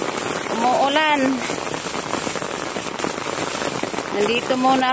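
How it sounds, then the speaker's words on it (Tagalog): Heavy rain pours down steadily in a park with a small fountain, a dense, close hiss of drops on surfaces throughout, while a person talks over it in bursts at the start and end. "Malakas ang ulan ngayon dito."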